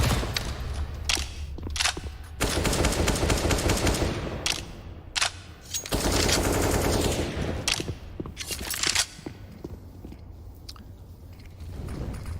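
Submachine gun fire in a professional Counter-Strike esports match, with loud, dense automatic bursts and sharp individual shots that repeat across the span, alongside other game sounds and no talk.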